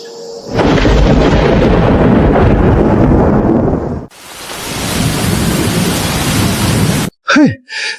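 Loud rolling thunder over a sudden downpour of rain, a sustained roar that breaks off and gives way to steady heavy rainfall, ending with a few short rumbling bursts.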